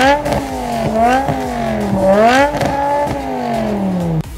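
A Dodge Charger engine revs repeatedly, loud and close, its pitch rising and falling in several throttle blips over a steady idle.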